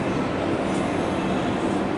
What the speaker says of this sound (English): These are all Chinese-built rail cars, if I remember correctly.